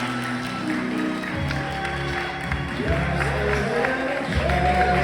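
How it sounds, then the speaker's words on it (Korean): Wedding guests at a ceremony hall in Uijeongbu applaud together, with a steady wash of clapping and crowd noise under bursts of music and chatter running through the whole stretch. "여러분 박수로 함께해 주시면 감사하겠습니다."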